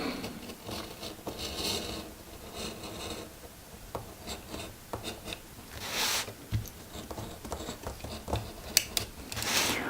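Close, quiet rasping and snipping of paper being trimmed with scissors for a scrapbook album, with irregular rubbing and scraping sounds throughout.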